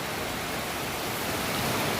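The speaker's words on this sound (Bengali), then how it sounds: "প্রবল ঝড় বৃষ্টি শুরু হলো ঝড় উঠেছে" A heavy Kalbaishakhi storm on a spring afternoon, with wind-driven rain roaring as a dense, steady wash of noise, loud and close throughout, with no voices.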